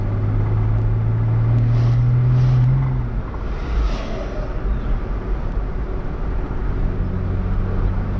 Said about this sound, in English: I can hear that rod knocking away back there